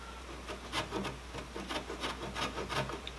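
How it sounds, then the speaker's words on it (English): A hand saw cuts into the wooden end block of an acoustic guitar, with a steady rhythm of soft rasping strokes, close and fairly quiet, and no talking. "So I'm going to try it with this saw here and see what happens."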